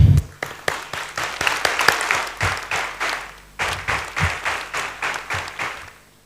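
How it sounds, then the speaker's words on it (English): Graduates at a convocation give a loud, sustained round of applause, dense clapping that swells and pulses in waves before tapering off near the end. "please join me right now in a massive, heartfelt round of applause for the true heroes of today, our parents."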